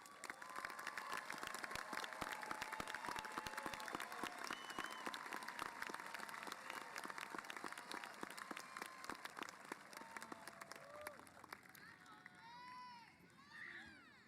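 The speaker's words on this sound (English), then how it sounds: "Let's offer these students a round of applause." A graduation ceremony audience in a large venue applauds scholarship recipients with dense, sustained clapping, some cheering mixed in, before the clapping thins and fades out near the end.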